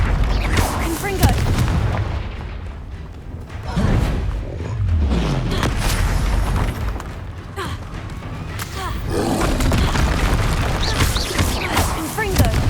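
Repeated Confringo explosive spell blasts from the Hogwarts Legacy video game thump and boom one after another amid busy combat noise and shouted voices, loud and close throughout.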